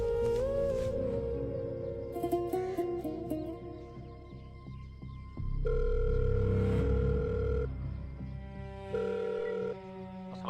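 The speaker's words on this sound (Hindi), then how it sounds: "मुंशी नंबर मिला एसएचओ दा।" Telephone dialing and ringing in a Saraiki-language Pakistani drama film, with tones, a steady ring signal and sustained beeps, fairly clear over a low background hum.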